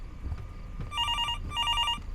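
A telephone rings in the horror video game Fears to Fathom, two bursts of bright electronic ringing over a low rumbling background.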